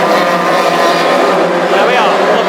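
National hot rod race cars race in a pack around the Hednesford oval, a loud continuous roar of engines with a commentator talking over the noise.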